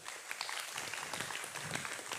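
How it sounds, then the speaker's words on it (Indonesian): Audience applause at a lively Islamic sermon for Santri Day, a steady, dense wash of many hands clapping that holds evenly throughout at a moderate distance. "Tepuk tangan untuk pesantren."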